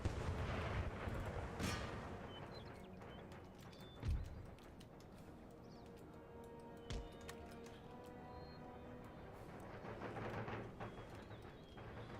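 Artillery cannon fire in the battle game Empire Total War: scattered booming shots, some near and some distant, over a constant battlefield din of crackling musketry and rumble.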